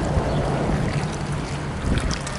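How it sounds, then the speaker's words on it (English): Strong wind buffeting a small boat out on the water, a loud steady roaring rush with gusty surges and a low rumble throughout. "It has really gotten windy."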